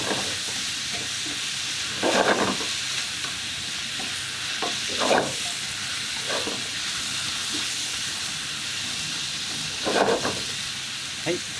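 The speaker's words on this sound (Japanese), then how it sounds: "お肉や玉ねぎ、マッシュルームにこの合わせダレをよく絡めてください。" Meat, onions and mushrooms are stirred with a balsamic vinegar sauce in a frying pan for an Italian-style ginger pork dish, with a soft steady sizzle broken by a few brief scraping stirs.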